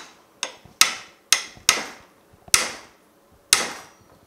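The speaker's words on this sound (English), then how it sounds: "I'm going to take a hammer and give this a couple of good," A hammer gives several hard metallic whacks to the shifter of a Muncie four-speed gearbox on a 1965 Chevrolet Malibu SS, six sharp close strikes at an uneven pace, each ringing briefly, with no talking.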